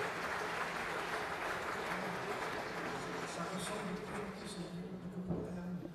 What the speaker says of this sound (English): We should have a round of applause, a big round of applause for Mr. Le Maire.